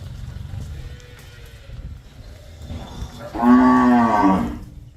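A single drawn-out cow moo rises clearly after a few quiet seconds of low rumbling background noise, fairly close and loud, on a dairy farm.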